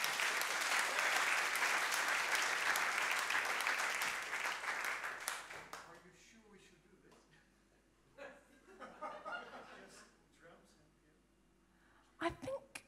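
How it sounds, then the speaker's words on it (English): An audience at an evening stage performance gives musicians a loud round of applause that fades after about five seconds, giving way to scattered laughter and people talking. "I think they need a round of applause."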